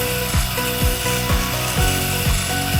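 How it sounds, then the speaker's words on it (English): A wood chisel is ground on a turning whetstone wheel, a loud rhythmic scraping and ratcheting that repeats about twice a second as the blade moves back and forth, heard close up with no talk. "Just getting the whetstone edge on the chisel"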